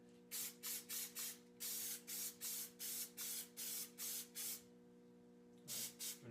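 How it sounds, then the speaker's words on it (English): Short hissing bursts of an aerosol spray can test-sprayed while customizing Lexus door sills, about a dozen in a steady rhythm, with a faint constant hum underneath and a final burst after a pause. "Let's do a test spray."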